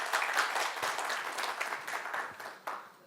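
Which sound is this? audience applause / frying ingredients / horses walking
audience applause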